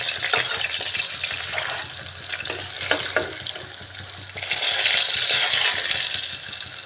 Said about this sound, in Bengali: এভাবে সব চাল কুমড়ার আমি ব্রাউন ব্রাউন করে ফ্রাই করে নিয়েছি